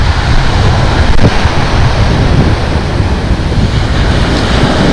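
Strong wind roars constantly against the microphone at the shore, mixed with the wash of surf, loud and unbroken.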